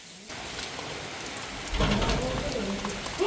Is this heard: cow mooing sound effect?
no